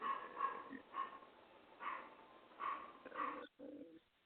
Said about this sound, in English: his dogs are raising Cain right now, and so that's what the background noise was